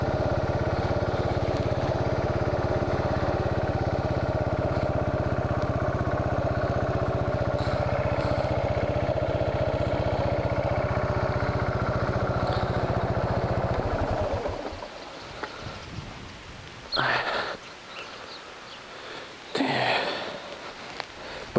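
A 2002 Buell Blast 500 motorcycle, a roughly 500cc single, idles with a steady, loud, pulsing thump for about fourteen seconds before cutting off, leaving near silence broken by a couple of brief rustling sounds.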